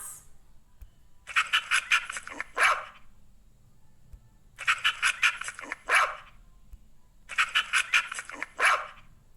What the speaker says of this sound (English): Yes, this is the sound of a dog. A dog barks.